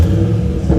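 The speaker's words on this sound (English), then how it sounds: "nice, very nice exhaust." 2015 Chevrolet Camaro 2SS RS with a V8 engine, heard as a brief, close, deep exhaust rumble that holds steady for under a second.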